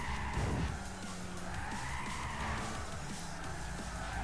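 In Gran Turismo 6, a race car brakes hard into a corner with a drawn-out tire squeal over its engine note, moderately loud and continuous, with no talk.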